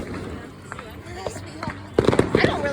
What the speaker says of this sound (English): Show them the fireworks we got.